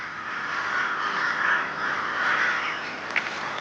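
Several crows caw in the open, harsh calls overlapping in a continuous rough chorus at moderate distance, with one sharper click near the end and no speech.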